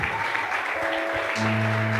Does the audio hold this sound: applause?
yes